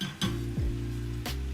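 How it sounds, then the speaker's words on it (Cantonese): Taro balls deep-fry in hot oil, a continuous sizzle and bubbling with a couple of short clinks from a utensil or pan during stirring, close and fairly loud. "炸到氣泡消失為止"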